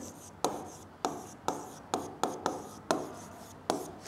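Writing on a board in a run of crisp, quick strokes, about nine distinct scratches at an uneven rhythm, close and clear with no voice.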